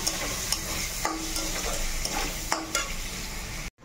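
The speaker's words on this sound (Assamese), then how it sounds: "মটনখিনি ভাজা হৈ গ'ল" Mutton and potatoes sizzling steadily in a pan while being stirred, with repeated scraping strokes of a spoon over the constant frying hiss, ending in a sudden cutoff.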